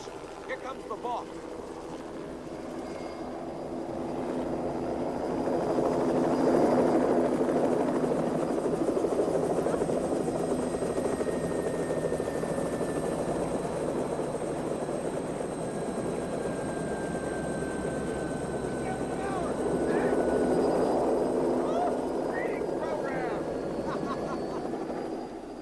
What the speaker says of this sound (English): Now watch this helicopter come up from nowhere.